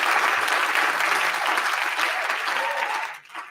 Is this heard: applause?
yes